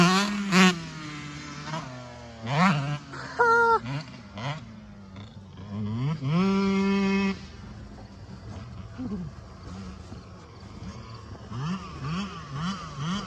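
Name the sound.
two-stroke dirt bike engine revving, winding out in second gear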